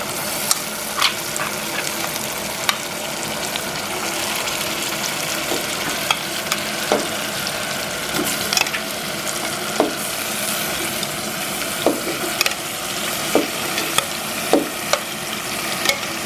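Beef pieces frying in a pan with garlic and ginger for a soy and oyster sauce curry: a loud, constant sizzle with occasional light taps and scrapes of stirring, up close and without speech.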